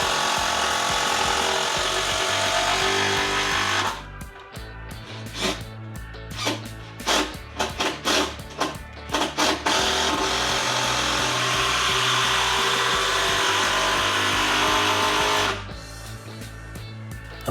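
A power tool drives hex screws into wooden sleepers for a garden planter build, its loud continuous whirring broken by a stretch of short stop-start bursts in the middle before the steady run resumes.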